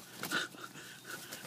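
A big dog pants in quick, rhythmic breaths close by, fairly faint and brief, with no talking.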